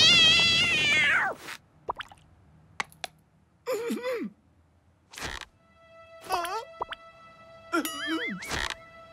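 A cartoon cat named Sam lets out several separate high, bending meows spaced between short pauses and small clicks, clear and close, with a longer yowling cry at the start.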